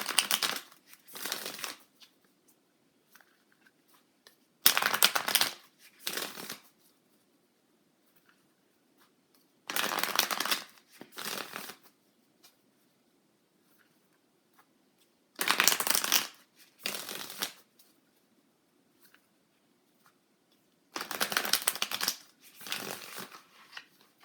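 Tarot cards shuffled in four distinct bursts, each a rapid riffling flutter split into two quick bouts, separated by quiet pauses; close and clear with no talking.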